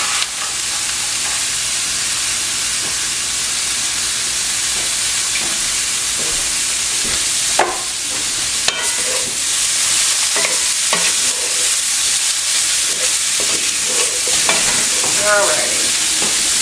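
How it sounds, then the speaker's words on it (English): Shrimp sizzle loudly in a hot pan, a dense steady hiss with occasional scrapes and stirring clicks, while someone briefly speaks over it. "while we cook the shrimp"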